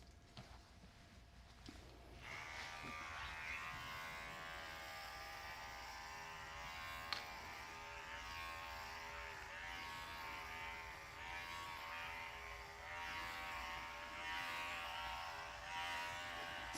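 Electric clippers buzz steadily while trimming a cockapoo's coat with a 3/4 inch comb at a grooming session. The hum is faint and close, starts after a short pause and then runs unbroken, with no talking.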